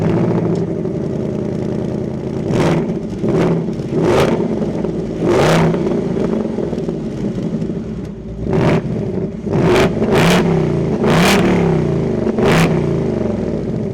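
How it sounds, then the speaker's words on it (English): A 2025 Ford Mustang GT Premium coupe's engine fires up and is revved repeatedly, with loud, close, throaty surges rising and falling over a steady rumbling idle, with no talking. "keep my foot on the brake, we can fire it up."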